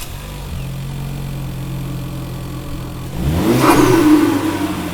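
Ford Focus RS MK3 engine droning steadily, then a louder surge of revving around the three-second mark with rising, fluttering turbo compressor noise, close and without talk.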